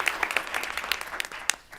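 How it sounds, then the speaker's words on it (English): An audience at a school board meeting gives a round of applause for an award, a short burst of scattered clapping from a modest crowd, heard at a middling distance. "So let's make sure we give a round of applause."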